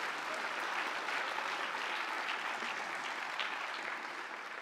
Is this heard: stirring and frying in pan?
no